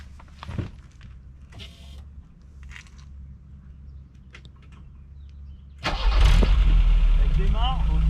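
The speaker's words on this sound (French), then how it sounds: "On va vous la démarrer pour que vous entendiez, elle est complètement d'origine." An original-condition Iveco Daily van with a stock exhaust cranks and fires up near the end of the clip, settling into a loud, deep idle. People talk during the quiet stretch beforehand.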